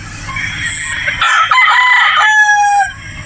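A gamefowl rooster, a Gray crossed with a Sweater at a Batangas game farm, crows one long, loud call close by with no talk over it.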